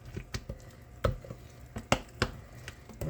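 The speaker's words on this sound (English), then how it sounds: "And get all of that stirred in really well" A spoon works hot oil into cornmeal batter in a bowl, giving close, irregular scrapes and sharp taps against the side, with no talking.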